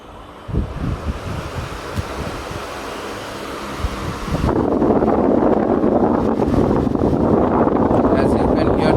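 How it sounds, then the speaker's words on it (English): A Crompton Storm 2 18-inch wall fan runs at full speed, giving a steady, loud rush of moving air that swells and stays constant after a few seconds, with faint rustling beforehand. "as you can hear the noise of the wind, the airflow is pretty decent"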